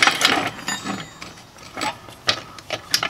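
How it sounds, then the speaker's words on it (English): Car jack being positioned and set under a 2000 Honda Insight barn find, giving short metallic clicks and scrapes that come in scattered bursts, close by and fairly quiet. "I'm going to put my jack in place."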